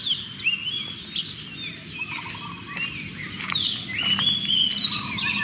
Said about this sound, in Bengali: পাখির ডাকগুলো শোনেন, আমি কিছু বলবো না।